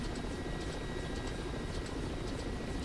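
Mi-8 helicopter main rotor and turbine drone in the DCS flight simulator during an autorotation descent, a steady broadband whir with faint rhythmic blade thumps, continuous and close, with no voices.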